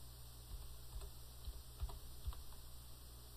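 An invoice number is keyed in on a computer keyboard, a few soft, scattered taps spaced apart over a low steady hum, with no talking.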